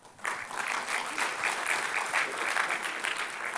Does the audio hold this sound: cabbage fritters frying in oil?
no